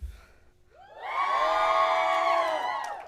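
Audience at a foundation donor recognition and awards event cheering on cue, one side of the room shouting and whooping together in a sustained, swelling roar of mixed voices.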